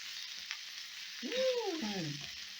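Vegetables with chives sizzle faintly in a pan as they are stirred, a soft, even hiss, joined near the middle by a short wordless vocal exclamation that rises and falls.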